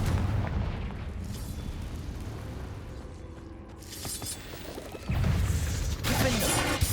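Fiery Confringo spell blasts in the Hogwarts Legacy video game, loud booming impacts with a rumbling burst near the end, amid continuous game noise and no talk.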